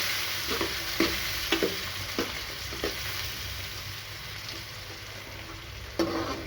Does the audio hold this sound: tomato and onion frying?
yes